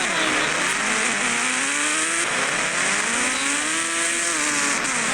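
A motorcycle engine in a video game revs continuously, its pitch climbing and dropping in sweeps, loud and steady throughout.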